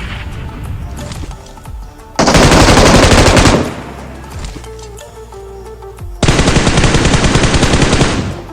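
Two long, loud bursts of automatic gunfire in a squad battle-royale shooter game, each lasting a second or more and separated by quieter ambient game sound.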